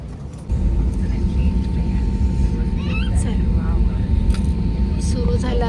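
A loud airplane engine roar swells and holds steady as the aircraft takes off, with people talking nearby over the noise.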